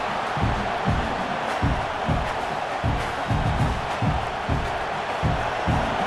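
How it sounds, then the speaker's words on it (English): Loud roaring football stadium crowd at a Tulane vs LSU game, a constant wash of cheering and noise with rhythmic low pounding beneath, close and sustained. "This crowd trying to make life miserable for this offense."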